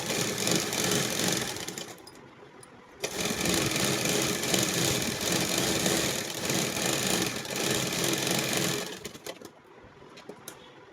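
A sewing machine stitches a plastic off-shoulder top in steady, continuous mechanical runs, pausing briefly near the start and again toward the end, loud and close.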